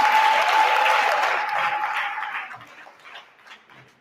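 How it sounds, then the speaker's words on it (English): An audience at a business workshop in Emalahleni claps loudly together, the dense applause gradually thinning into scattered claps as it fades out. "Give them all a round of applause for what they just gave us today."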